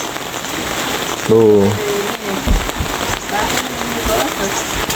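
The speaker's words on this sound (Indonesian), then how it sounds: "lah hujan terus ya, raiso apa-apa ini" Heavy rain pours steadily on a transmigration settlement in North Kalimantan, a dense, close hiss that continues throughout while a voice speaks briefly over it.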